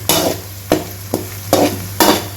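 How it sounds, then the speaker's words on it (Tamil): Onions and curry leaves sauté in a pan for chicken curry, a spatula striking and stirring in five distinct strokes above a low steady sizzle, close and clear with no voices. "அது இந்த வெங்காயத்தை கூட சேர்த்து போட்டுருங்க. நல்லா பொன்னிறமாக வர வரைக்கும் நல்லா வதக்கி எடுக்கணும்."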